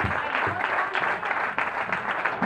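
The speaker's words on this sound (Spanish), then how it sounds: "Venga, ese aplauso también para Lucía." A crowd at a village king-and-queen gala farewell gives a lively round of applause for Lucía, with continuous dense clapping and a few voices mixed in.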